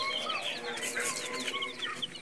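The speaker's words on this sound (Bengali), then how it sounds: "এখানে প্রায় 19 পিসের মতো দেশি মুরগির বাচ্চা আছে" A brood of about nineteen native chicks peeps and cheeps continuously, many thin high chirps overlapping close by in a busy, steady chorus with no talk.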